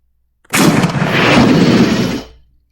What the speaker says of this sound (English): So we're going to go ahead and fire at the target.